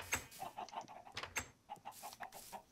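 Chicken clucking in the Minecraft video game: a series of short, clipped clucks in an uneven rhythm, fairly close and clear with no talk over them.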